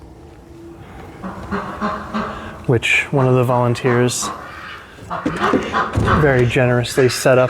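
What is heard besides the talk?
ducks quacking inside a greenhouse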